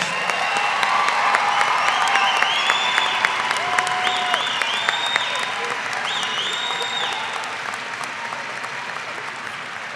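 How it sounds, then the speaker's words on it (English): Audience applause at the 2019 Pikes Peak Community College commencement ceremony, a broad, steady wash of clapping with scattered whoops and cheers rising over it, continuing at even strength throughout. "Please give Ajade a round of applause."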